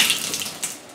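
Water runs steadily from a tap in a bathroom being remodeled for disabled access, with a tub and shower nearby; a continuous close hiss and splash fills the whole second.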